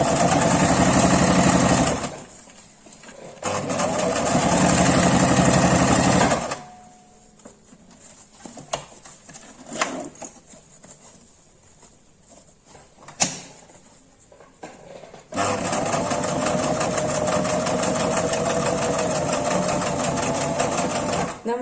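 A sewing machine stitches a sling bag made from waste material in loud close bursts of rapid mechanical whirring, two runs at the start and a longer one at the end, with quieter handling noises between.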